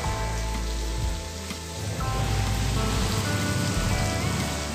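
Onion and panch phoron frying in a pan make a dense, steady sizzle that crackles loudly and close, holding nearly even throughout with no voices over it.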